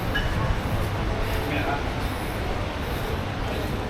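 Steady rumbling of a moving train interior in Istanbul, with a constant low roar and people talking faintly in the background.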